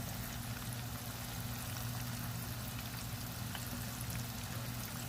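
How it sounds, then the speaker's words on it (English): Meatballs frying in a pan, a dense continuous sizzle and crackle held close and steady throughout, with no voices. "overall it's going to be about 3 minutes or so of them frying"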